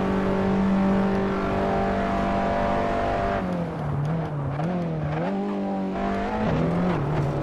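Race car in Assetto Corsa on PS5 with a manual gearbox, engine holding a steady loud drone, then dropping in pitch as it shifts down into second and revving with wavering pitch under load.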